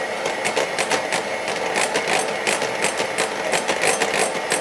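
A hand mixer whips egg-white protein cream while hot syrup is poured in, a steady close buzzing whir with rhythmic pulsing as the beaters churn, continuous and loud with no talking.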